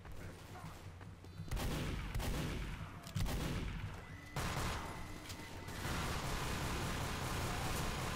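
Bursts of Team Fortress 2 gunfire crack out repeatedly over several seconds, loud and dense, with a rumbling background and no speech.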